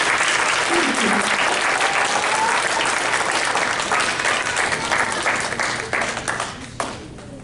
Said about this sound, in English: clap your hands as loud as you can